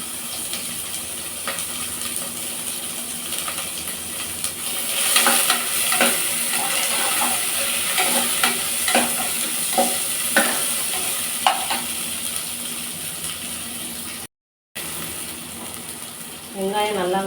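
Small onions (shallots) sauté in a pan for mutton kulambu, a steady close sizzle broken by repeated scraping stirs from a spoon, with a brief dropout near the end.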